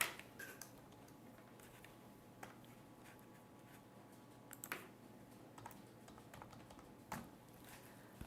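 Someone types on a computer keyboard while entering member details in Koha library software. Soft, sparse key clicks come at an uneven pace, faint and close, over a quiet room hiss with no talking.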